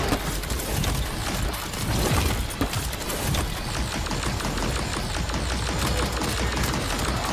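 The Balefire weapon fires at level 160 enemies in a video game, a dense, continuous stream of rapid blasts and crackling impacts that stays loud throughout.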